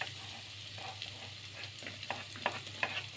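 Garlic and ginger sautéing in a pan, with a steady faint sizzle and light, irregular scraping stirs that grow a little busier toward the end, heard up close with no talking.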